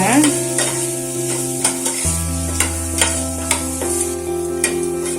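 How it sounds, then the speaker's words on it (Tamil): Onions sautéing in a pan with salt and asafoetida for a hotel-style potato masala, a steady close sizzle with regular spoon stirs and scrapes, over a constant tonal hum in the background. "இதோட இதையும் நல்லா வதக்கிக்கலாம்."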